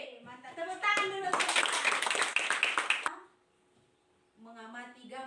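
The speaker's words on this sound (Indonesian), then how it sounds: "Tepuk tangan dulu." A class of children bursts into about two seconds of lively group clapping between stretches of an adult voice talking, then the room falls quiet before the talking resumes.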